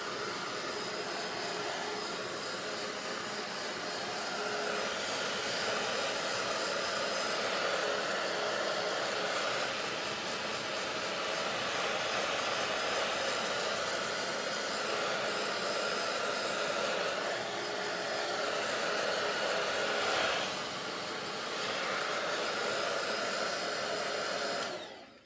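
A hair dryer roars steadily at close range, drying paint on a painted board, its airflow pitch shifting slightly as it moves, with no voices.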